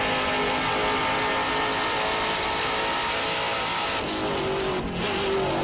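Trans Am race cars on the Portland circuit in 2024, closing up in a drag race toward turn 10, a loud unbroken engine roar with a slight dip and recovery near the end.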